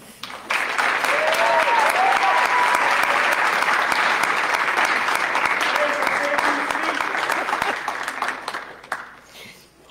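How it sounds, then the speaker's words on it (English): Loud applause for an athlete called up at a lab coat ceremony, with a full audience clapping steadily for several seconds before it thins and fades, and voices and a few whoops mixed in. "so he'd really like to have a loud applause uh, here"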